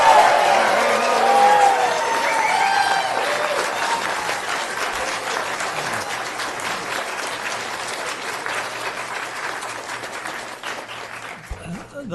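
Audience applause and crowd noise fill a county board of supervisors meeting, loudest at the start and tapering slightly into sustained clapping and murmuring throughout.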